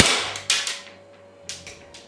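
A JG Glock 18c airsoft pistol clicking and firing, with three sharp, close snaps at uneven intervals, each followed by a short ringing decay.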